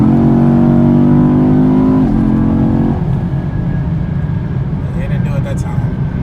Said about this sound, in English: Watch when the car downshifts.